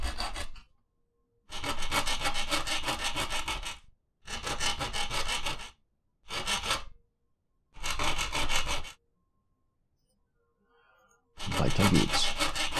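Repeated bursts of hand sawing on metal and wood while dismantling a fire axe and hammer in the survival game No One Survived, five loud strokes separated by pauses, heard alone without talk.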